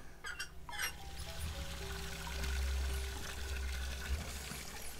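Tap water pouring in the Anna's Quest video game, a steady splashing flow that swells louder midway and runs continuously, with faint tonal game sounds in the background and no talk.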